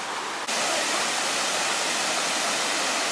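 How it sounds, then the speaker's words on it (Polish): A steady, loud broadband roar of rushing water from a cascade of the Vistula river beside a fish ladder, constant and close, with no voices. "Cały czas przy drodze słychać przyjemny szum rzeki"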